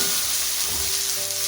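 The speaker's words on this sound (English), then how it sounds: "Stir for the oil to evenly spread on the onion like this" Onions stirred through frying oil in a pan, a loud, steady crackling sizzle with low scraping movement underneath, heard on its own without speech.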